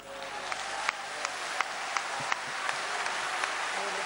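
An audience at the Yuva Bharat Camp at Patanjali Yogpeeth claps for a sustained stretch. The applause is dense and continuous, with sharper individual claps standing out now and then.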